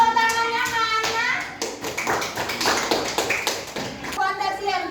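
Children in a primary-school classroom clap in a short burst of scattered hand claps, mixed with children's voices and an adult speaking over them.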